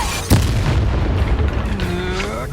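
A Confringo blasting spell explodes in the Hogwarts Legacy video game, a single sharp boom at the start followed by a rumbling tail under continuous battle noise and ringing tones.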